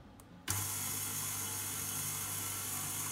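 Electric hand mixer whirring steadily through lemon ginger cake batter, starting abruptly after a brief quiet moment and then running loud and constant to the end.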